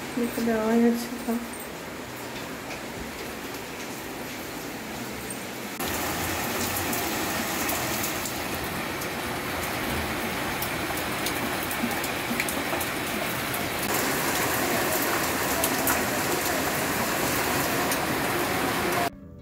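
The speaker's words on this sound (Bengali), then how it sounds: "প্রচণ্ড বৃষ্টি হচ্ছে" Heavy rain pours down in a constant, dense wash of hiss, growing louder partway through and holding steady, with a voice faintly present beneath it.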